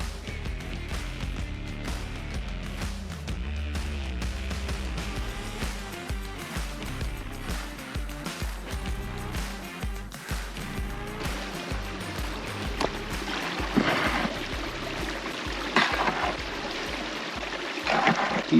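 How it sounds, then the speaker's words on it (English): Water rushing steadily through a gold prospecting sluice in a New Mexico national forest, a dense continuous wash with gravel and material tumbling along, close and fairly loud, brief splashes and knocks toward the end. "Got a lot better water flow now. This stuff's boogieing on down"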